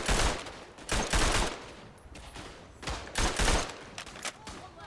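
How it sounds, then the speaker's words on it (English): Machine gun fire in Verdun, a World War I shooter, comes in loud rapid bursts, with several separate rattling volleys breaking up short pauses. "they've adjusted the firing rate of this gun. They've made it fire faster."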